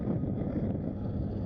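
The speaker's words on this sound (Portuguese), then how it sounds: "O vento é turbulento aqui." Turbulent outdoor wind buffets a microphone, making a continuous low, rumbling roar that is loud and steady throughout, with no voices.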